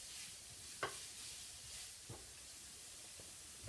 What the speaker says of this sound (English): we're going to let that kind of saute until it gets soft